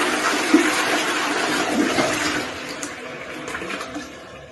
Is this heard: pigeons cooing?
no